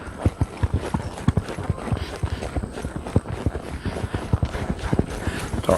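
Horse hooves clip-clop across the footing of a riding arena in a steady, quick rhythm, close and fairly loud, with no voices over them.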